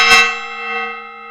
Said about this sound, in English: So I have a gong. People can use channel points to redeem me doing this.